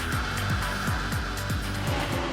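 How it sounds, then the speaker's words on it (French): A supercar on a Dubai road revs hard at high speed, its engine rising in repeated sharp climbs that run loud and close, with no voices. "la voiture monte dans les tours, mais Saïd stoppe brusquement son accélération."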